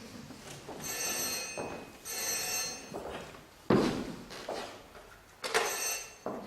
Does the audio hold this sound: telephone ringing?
yes